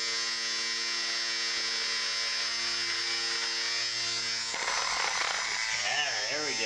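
A homemade brush robot buzzing steadily as it vibrates across a surface while dusting, a constant electric hum that shifts and wobbles in pitch toward the end.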